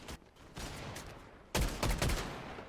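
Rapid gunfire from an assault rifle in the Fortnite video game: dense bursts crackle continuously, growing louder and heavier in the last second.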